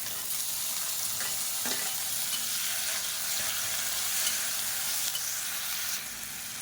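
Tomatoes fry in hot oil with curry leaves for a chutney, giving a continuous close sizzle with a few faint stirring knocks.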